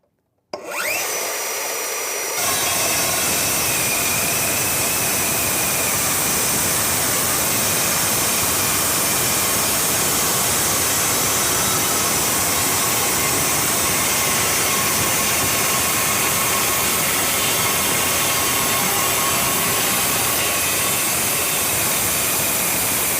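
A GCD 18V-355 Professional metal chop saw cuts through metal: a short quiet start gives way to a loud, steady, close grinding roar with a hissing screech that runs unbroken for about twenty seconds.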